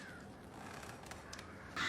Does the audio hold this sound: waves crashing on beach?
no